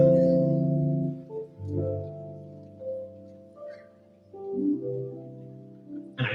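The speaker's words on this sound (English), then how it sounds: "Lo-fi music has mellow, like minimalistic sound like this." Soft, mellow keyboard chords drift slowly in a sparse, minimal lo-fi style, gently swelling and fading with no voices.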